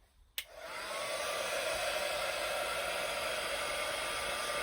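A handheld heat tool switches on with a click and blows a steady, even rushing hiss up close, drying paint on a steampunk craft tag.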